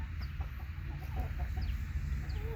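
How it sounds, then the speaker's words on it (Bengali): Roosters and hens on a farmyard homestead give scattered soft clucks and short calls over a steady low hum, fairly close but not loud, with no talking. "দেখুন কি সুন্দর সুন্দর মোরগ মুরগি এখানে লালন পালন করা হয়"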